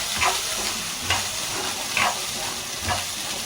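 Ingredients fry in hot oil in a kadai, giving a constant close sizzle with rhythmic stirring scrapes about once a second, and no voices.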